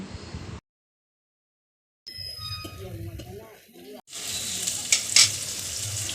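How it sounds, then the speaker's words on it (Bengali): Chopped onion with whole garam masala sizzles and fries in hot oil, breaking off briefly before a steady crackling sizzle with stirring returns, rising louder near the end, with a voice talking over it. "গোটা গরম মশলা দিয়ে দিলাম তেলে এবার পেঁয়াজ কুচিটা দিয়ে দিলাম"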